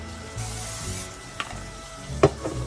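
Vegetable oil and non-stick cooking spray in a pan, a soft, steady sizzle with a brief spray hiss and a couple of light clinks of cookware.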